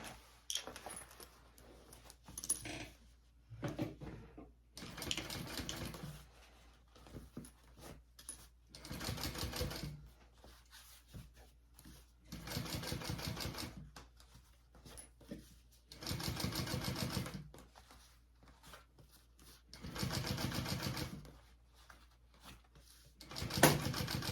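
A sewing machine top-stitches a zipper on a crossbody bag in repeated bursts of rapid mechanical stitching, each run lasting a second or two. The bursts are separated by quiet pauses as the fabric is repositioned.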